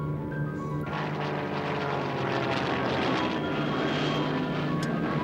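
Aircraft engine drone in a wartime RAF radio drama set in September 1939, a steady loud propeller roar holding throughout without a break.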